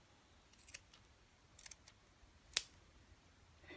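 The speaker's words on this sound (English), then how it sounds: "You want really nice sharp scissors in your blister kit so that it's easy to go ahead and cut between somebody's toes." Sharp scissors from a blister kit cutting tape between a person's toes, a few faint quiet snips and clicks spread over a few seconds in a near-silent room.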